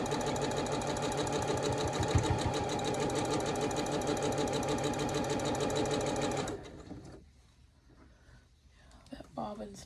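A sewing machine stitches a quilt block for a barn star sampler, running in a fast, steady, close mechanical chatter for about six seconds before stopping, followed by quiet handling sounds.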